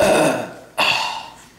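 A single loud, close belch rumbles for about half a second, then a second shorter burp-like gulp follows after a brief pause.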